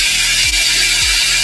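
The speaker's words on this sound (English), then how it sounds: "Got the drill. We're gonna put our stiff bristle brush attachment on." A cordless drill spins a stiff bristle brush attachment dipped in water and cleaning solution, scrubbing Military Blue Air Jordan 4 sneakers: a steady loud whirring hiss with brief motor pitch sweeps, close up and without speech.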